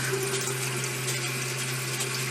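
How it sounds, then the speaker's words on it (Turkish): Rice being washed in hot water until the starch runs off, a steady continuous rush of running water with a low pump-like hum underneath, even and close throughout. "Pirinçlerimizi sıcak suda nişastası akana kadar, beyazlığı gidene kadar yıkıyoruz."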